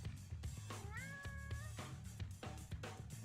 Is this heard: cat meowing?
yes